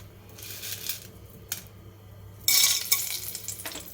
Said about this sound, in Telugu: ఈ పోపు సామానంతా మెల్లిమెల్లిగా దాంట్లో వేస్తే రావాలి.